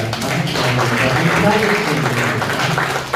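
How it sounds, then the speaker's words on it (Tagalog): A church congregation gives a lecturing pastor a warm round of applause, a short, dense patter of clapping heard close up and mingled with voices. "우리 박사님에게도 한번 영광의 박수를 드리겠습니다"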